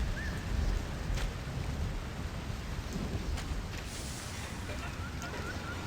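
Gentle rain ambience in the video game Sky: Children of the Light: a steady soft hiss with a low rumbling undertone and a few faint brief tonal accents, no words spoken.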